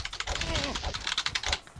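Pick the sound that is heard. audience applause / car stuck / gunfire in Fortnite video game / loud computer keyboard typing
loud computer keyboard typing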